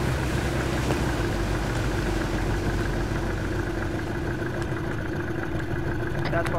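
Boat engine idling in the video game Arma 3, a steady mid-pitched droning rumble running continuously throughout at moderate loudness.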